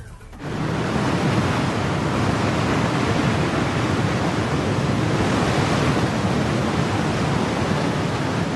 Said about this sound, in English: Flooding the dry dock will allow them to float the segments out to sea.